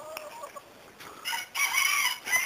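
A hen clucks in a series of short, close calls that build into a louder, more insistent burst toward the end, with no talking.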